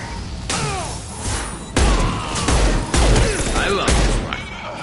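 Rifle gunfire from the Mass Effect 2 video game, a sustained fusillade of sharp, loud shots and heavy impacts with surging bursts throughout, amid game noise and brief voice sounds.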